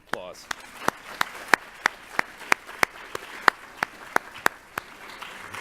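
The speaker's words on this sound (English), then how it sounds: "Another round of applause." Slow, evenly spaced claps at a panel conversation event, sharp distinct hits about every third of a second over a quiet room, opening with a brief voice.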